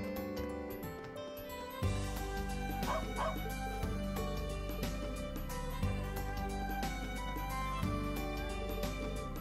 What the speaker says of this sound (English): Oh, he's a little puppy dog. I guess he's trying to tell me there's no scent here.